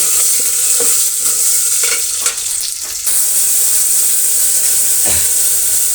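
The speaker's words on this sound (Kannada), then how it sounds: "ಒಂದಷ್ಟು ಕರಿಬೇವಿನ ಸೊಪ್ಪನ್ನು ಸೇರಿಸೋಣ ಇಷ್ಟು ಫ್ರೈ ಆಗಲಿ" Onions frying with curry leaves and a pinch of rock salt in a pan, a loud close sizzle and hiss with spatula scrapes; the sizzle drops briefly in the middle, then picks back up.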